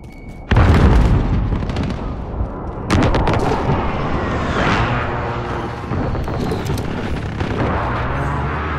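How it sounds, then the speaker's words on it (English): Explosions from a precision airstrike in Call of Duty: Modern Warfare, with a sharp blast followed by a second heavy boom, both trailing into a sustained rumble of gunfire and battle noise. "Enemy precision airstrike, take cover!"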